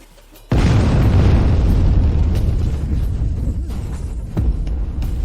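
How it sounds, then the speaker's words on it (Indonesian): A sudden loud explosion bursts out after a brief quiet moment, then a heavy rumbling roar sustains for several seconds with another low thump near the end, with no voices. "Begitu suara ledakan, cahaya api akan mengalihkan pandangan mereka semua."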